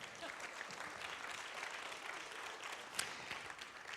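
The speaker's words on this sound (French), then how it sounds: "Oui, applaudissez-la." Audience applause at a conference session of summary presentations, a steady, dense wash of clapping sustained throughout, moderately distant and fairly faint.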